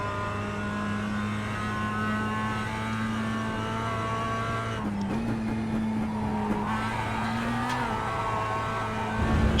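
A Mazda MX-5 Cup race car engine in the iRacing game at Summit Point Raceway holds a steady droning pitch, dipping and shifting briefly midway, with faint tire squeal and a rising rev at the end.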